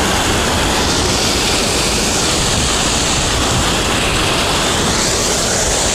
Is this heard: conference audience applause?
no